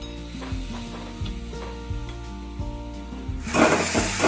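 Turmeric, red chilli and cumin powders sizzle in a pan with a splash of water while a spoon scrapes and stirs in repeated strokes, a steady close frying hiss underneath and a louder burst near the end.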